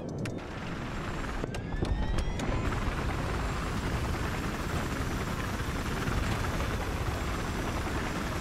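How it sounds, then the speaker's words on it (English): Helicopter in the video game Battlefield 3, a steady broadband rotor drone that holds loud and constant throughout, with a few sharp bursts near the start. "I can hear a chopper."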